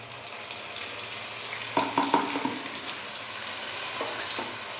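Ginger, garlic, green chili and tomato paste drop into chicken frying in a pan, setting off a brief burst of crackling sizzle over a steady low frying hiss, close and without talk.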